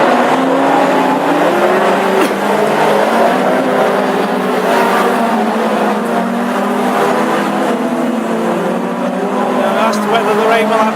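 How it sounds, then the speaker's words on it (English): Classic hot rod race cars powering away at the green flag in a UK heat race at Northampton, dense roaring engines and rising revs, loud and continuous with a commentator talking over them. "green flag goes from the Star Marshal, and Faulkner in car 6 will power around the outside of 24 Roger Wright to lead them"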